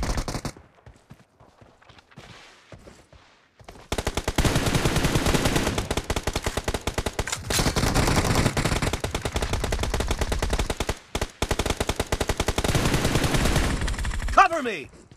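Sustained automatic gunfire in the mobile shooter PUBG Mobile, after a few sparse shots a long, loud unbroken burst rattles on for about ten seconds with a brief gap near the end, close to the listener.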